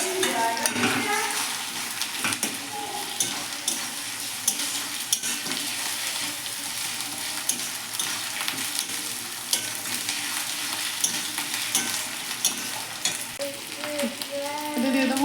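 Ginger and garlic paste sizzles with browned onions in a pan for chicken biryani, a steady frying hiss punctuated by repeated scraping stirs, close and without talk.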